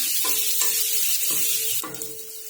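Whole onions frying for a spicy onion sabzi, browning in oil. A close, fairly quiet sizzle is broken by a few spoon stirs and scrapes against the pan at intervals.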